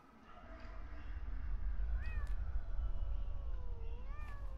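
A cat meows in the video game Pathologic 2, several rising calls over a low ambient rumble, fairly close and clear.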